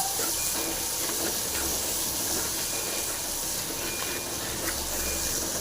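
Oil frying hard in a pan with salt tossed in during Tamil-style cooking of thumbai herb kadayal, a dense steady hiss and sizzle filling the whole stretch, close and loud without any voice.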